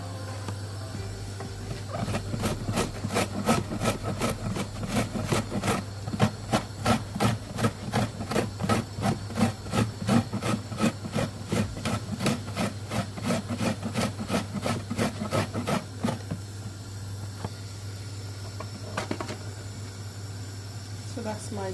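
Rhythmic scraping strokes of ginger being grated, quick and steady, over a low constant hum, then the strokes stop and a faint rustle remains.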